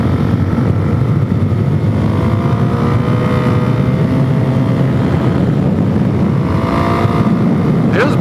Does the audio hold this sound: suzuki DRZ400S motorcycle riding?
yes